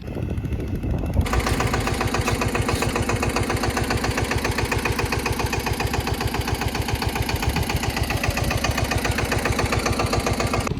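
A tractor engine running at a fairly steady idle, heard up close, with a loud, rapid chugging knock that keeps a regular rhythm throughout and no voices.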